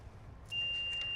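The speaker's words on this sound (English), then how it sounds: "that alarm is not very promising" A flood-damaged electric car's alarm starts partway through, a thin steady high-pitched beep tone sustained over a low rumbling background, fairly close.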